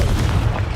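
A Confringo blasting spell detonates in the video game Hogwarts Legacy, a loud, deep, rumbling explosion that fills the whole short moment on its own.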